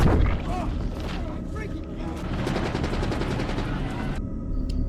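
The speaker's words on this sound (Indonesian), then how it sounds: "Di situ salah seorang prajurit dan Rocky telah ditembak oleh pemberontak sampai sekarat" Rapid gunfire from rebels attacking soldiers in a monster film, dense bursts under a loud cinematic mix with booming low end, stopping abruptly near the end.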